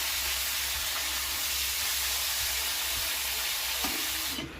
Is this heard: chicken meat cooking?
yes